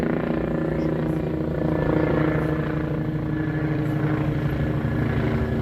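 A helicopter flies overhead during a wildfire in Germil, Portugal, its steady rotor thrum and engine roar filling the air continuously without fading.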